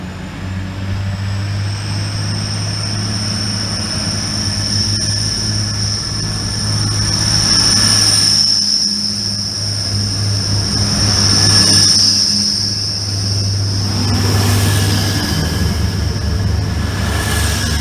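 A train passes through Grantham station with a steady, loud rumble and bright high whine that swells and fades over nearly twenty seconds, no voices present.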